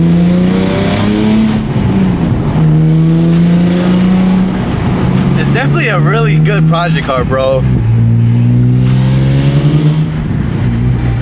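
A Nissan 350Z with an exhaust leak idles and revs up close, its loud engine note rising and falling in several pulls. Someone talks over the engine throughout.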